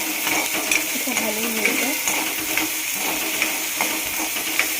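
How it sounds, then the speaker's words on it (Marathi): Onions sizzling in a pan for kanda poha while a spoon stirs and clinks against the metal, a steady hiss with faint background voice. "कांदा टाकून दिल्यानंतर थोडंसं त्याला हलवून घ्यायचं."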